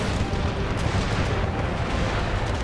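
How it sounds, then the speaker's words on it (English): Artillery fire in Empire: Total War booms continuously in a dense, rumbling barrage, loud and close, with overlapping blasts and crackling musket-like pops blending into a constant roar. "and artillery fire."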